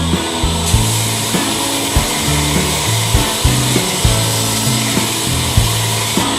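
A belt grinder runs against the bevel of a knife blade in steady, even passes. The abrasive hiss is close and constant, with regular rhythmic surges and knocks as each stroke starts and ends.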